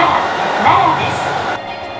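Rumbling rapid train interior sound with a high whine from brakes or motors as the train slows arriving at Nara Station, ending in a quieter hum.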